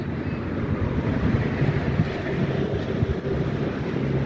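Steady wind roaring and buffeting the microphone, a continuous low rumble with no voices.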